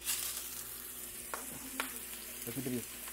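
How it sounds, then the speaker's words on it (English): Steak frying in a pan gives off a quiet, continuous sizzle close by, with a few faint clicks and light clatter over the constant hiss. "Let this guy fry for a while."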